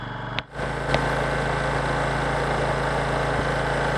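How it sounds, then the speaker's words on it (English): An Exceed generator runs and warms up with a steady, loud, even idle hum, briefly interrupted by a short dip near the start before resuming its constant drone. "So first we'll start the generator and let it warm up"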